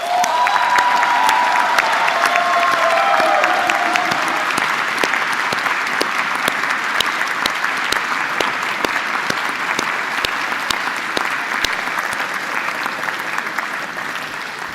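A large audience at a university graduation ceremony breaks into sustained applause, dense clapping that starts strong with a few cheers and slowly thins out over about fifteen seconds.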